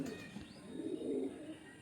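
A pigeon coos softly, a low, faint burst rising through the middle of the moment. The bird is a light-eyed female, close by, with no talk over it.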